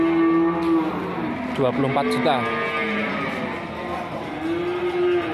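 A pregnant cow, eight months along and due to calve, lets out long, low moos close by, one at the start and another at the end, while someone talks over the middle stretch.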